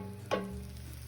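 Mushrooms browning in a hot pan give a sudden sizzling burst that settles into a steady low frying hiss over a constant hum, with no voices.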